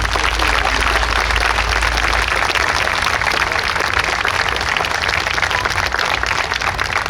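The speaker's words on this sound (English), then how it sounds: "we think it's those guys that deserve a real round of applause for that" A crowd at a New York State Police special operations exhibit claps and cheers in a dense, continuous roar that holds steady throughout.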